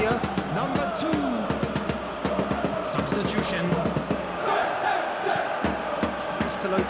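A stadium crowd at a Paris Saint-Germain versus Paris FC club friendly in a football video game applauds and cheers steadily, a dense wash of clapping and crowd noise under a commentator's talk.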